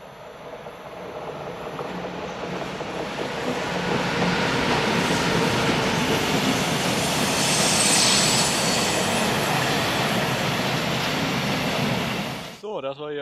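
A train hauled by locomotives passes on the Brenner line, building to a loud, steady rumble and rush that holds for several seconds before cutting off abruptly.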